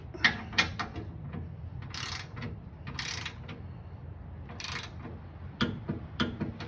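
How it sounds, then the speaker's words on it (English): A torque wrench ratchets while tightening bolts on a Toyota Tacoma high-mount brake light, giving quiet clicking strokes in short bursts with brief pauses, close and faint against a low background hum. "we got our torque wrench set to 22 foot-pounds, like it says"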